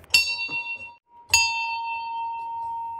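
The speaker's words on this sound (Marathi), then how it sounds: "या घंटा मागवल्यात, ज्या की खूप जड आहेत आणि वाजतात" Heavy decorative brass bells in a home shrine ring out in two distinct strikes, each a bright metallic clang with a long sustained ringing tone that lingers, the second strike decaying slowly to the end.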